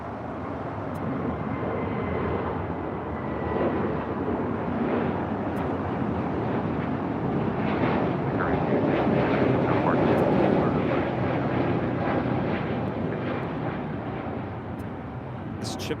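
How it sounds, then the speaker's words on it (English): An Airbus A320neo airliner on its takeoff roll at LAX gives a loud, steady broadband engine roar that holds for the whole stretch and swells slightly midway, with faint voices underneath. "This is Spirit 266 taking off to Philadelphia on an A320 Neo."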